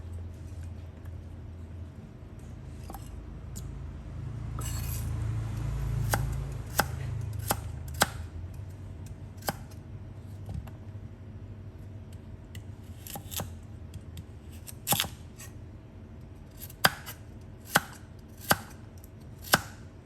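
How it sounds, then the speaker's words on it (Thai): Carrots are sliced crosswise with a knife on a board, the chops irregular and soft at first, then sharper and more regular near the end. "ค่ะวันนี้เราจะหั่นขวางค่ะ"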